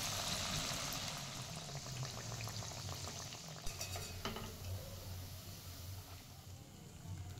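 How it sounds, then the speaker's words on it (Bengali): Palm-flavoured rice-flour fritters (bora) bubble and fry in hot oil with a steady, close hiss and a low simmering undertone, broken by a few faint clinks partway through. "বাকি বড়াগুলো ঠিক একইভাবেই ভেজে নেব"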